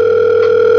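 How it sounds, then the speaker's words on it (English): A telephone rings with a steady, loud electronic tone that holds unbroken for under a second, close and clear with no voices. "Somebody called my phone."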